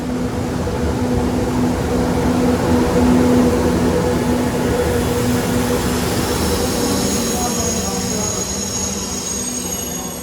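A KTX-Sancheon high-speed train, set 403, moves through Dongdaegu station in Daegu. A steady loud rumble of rolling wheels carries a sustained tonal whine and faint high squeal, fading slightly toward the end.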